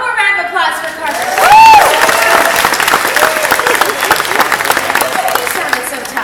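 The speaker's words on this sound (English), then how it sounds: "One more round of applause for Carter." An audience applauds loudly and steadily, a dense wash of many hands clapping close by, with brief voices rising over it near the start.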